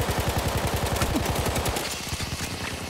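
A Hellriegel submachine gun fires in a video game, a rapid, loud sustained burst of closely spaced shots that eases slightly near the end.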